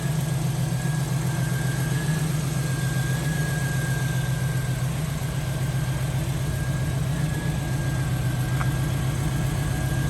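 A 1968 Camaro with a small-block 350 V8 idles nearby in a steady, low, even rumble that holds for the whole stretch without revving or speech.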